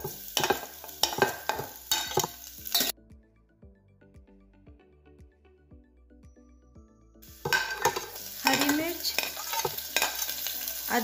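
Garlic and cumin frying in hot ghee inside a pressure cooker, with loud sizzling and spoon scrapes at the start and end and a quieter stretch of faint clinks in between.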